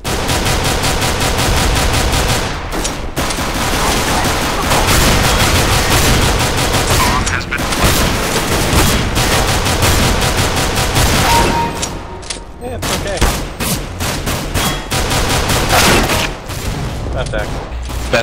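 Rapid P250 pistol fire in Counter-Strike: Global Offensive rings out in dense, repeated bursts of sharp gunshots throughout, loud and close, with game noise and occasional voices beneath.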